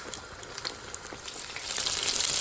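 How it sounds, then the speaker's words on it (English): Steady crackling sizzle of fish frying in hot oil, close up, with dense popping that grows slightly louder toward the end. "Now this is the last of the fish frying."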